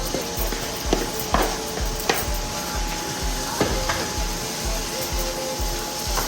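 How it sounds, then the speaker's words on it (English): Chopped Roma tomatoes stirred into a sizzling eggplant stew, a steady close hiss of frying under repeated scraping and knocking of the spoon against the pot. "I'm gonna go ahead and add my chopped tomatoes."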